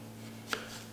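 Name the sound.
knife slicing lemons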